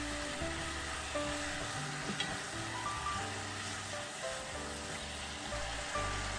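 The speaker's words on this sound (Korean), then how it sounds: "미역을 넣고 미역이 부들부들해질 때까지 2분간 볶는다." Beef and seaweed stir-frying in a pot for Korean seaweed soup, a steady close sizzle and crackle running alone throughout with faint stirring scrapes.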